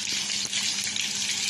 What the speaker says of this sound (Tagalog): Tapos itatapon ko po yung tubig.